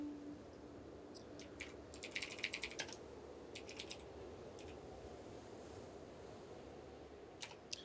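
Faint key clicks from a computer keyboard being typed on, arriving in a few quick clustered bursts with pauses between, over a steady low background hiss and no voices.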